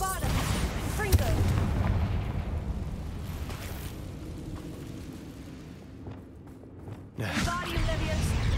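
Explosive blasts from Bombarda and Confringo spells cast in Hogwarts Legacy: a loud boom at the start, a rumbling tail that fades over several seconds, then a second heavy burst near the end, with a voice speaking over the opening.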